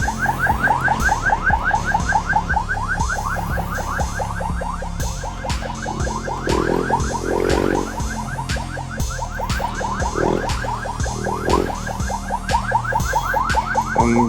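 A loud, rapidly warbling electronic siren wails continuously, its pitch oscillating fast, with low rumbling traffic noise underneath.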